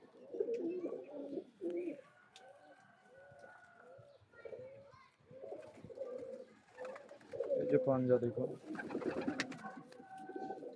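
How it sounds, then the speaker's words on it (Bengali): Active, aggressive pet pigeons coo repeatedly in a loose, throaty rhythm close by, with someone talking over and between the calls. "কবুতরগুলো খুব অ্যাক্টিভ, এগ্রেসিভ কবুতর"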